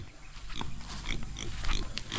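A black pig on a farm grunts and snorts in short bursts against steady outdoor background noise, fairly close and moderately loud.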